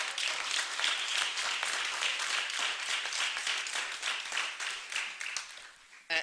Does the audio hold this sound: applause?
yes